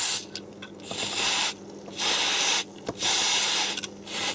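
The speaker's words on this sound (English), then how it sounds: "Quick squirt on all of them." Several quick bursts of contact cleaner spray hiss in succession on the contacts of a Roberts R900 radio, each lasting under a second, close by with brief pauses and small clicks between them.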